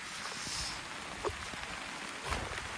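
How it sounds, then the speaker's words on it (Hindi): Rain falling steadily in an open parking lot by Krangsuri Waterfall in Meghalaya, a soft continuous hiss of drops with a few faint scattered taps. "ओ भाई बारिश दे दिया।"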